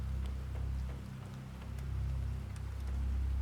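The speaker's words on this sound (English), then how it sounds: "Can it not happen while we have a rainstorm happening?" A rainstorm in the survival game Planet Crafter, a soft, steady low rumble of rain with gentle swelling and fading, fairly faint and with no voices.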